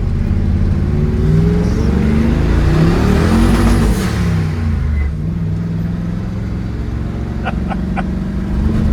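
A diesel dump truck engine revs hard and quickly climbs to its rev limiter, then drops back to a rough idle. The engine is loud and close, with a few brief clicks near the end.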